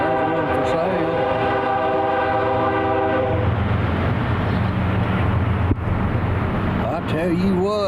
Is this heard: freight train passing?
yes